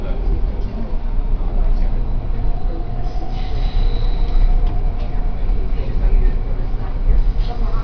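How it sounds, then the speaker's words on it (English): A Canada Line train bound for YVR Airport rolls along with a loud, steady rumble and rattle of the rail car, plus faint wheel squeal, filling the whole stretch. "This train is for YVR Airport."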